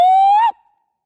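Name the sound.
human imitating a whoop call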